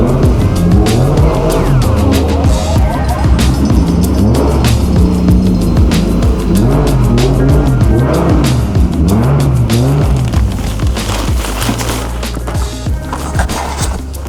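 A Toyota Chaser JZX100 driving hard, its engine loud and close with rising and falling revs, tire noise and squeal running through a continuous, busy stretch.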